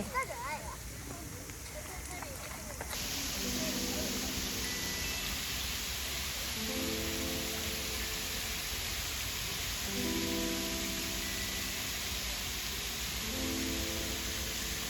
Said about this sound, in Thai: เดินกับสภาพตากฝนกลับบ้านกันเลยนะคะ